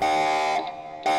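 An in-game alarm in StarSim that won't switch off blares as a loud, steady buzzing tone, briefly dipping before resuming at full strength.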